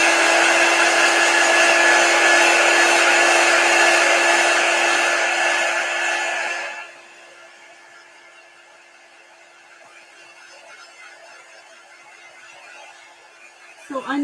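Hair dryer blowing on freshly brushed chalk paint on a wooden block, loud and steady for about seven seconds, then lowered or moved away to a softer hum before a brief bump at the end.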